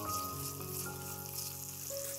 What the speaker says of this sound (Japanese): ごま油大さじ1杯を鍋に入れて加熱し、こんにゃく、しいたけを炒めます。